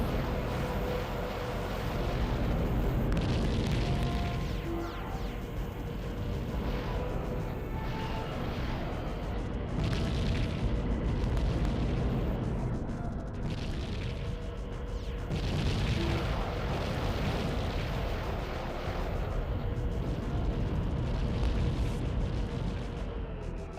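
Rockets fire and burst in a video game, a dense, loud wall of booming blasts and rumbling explosions that continues without pause.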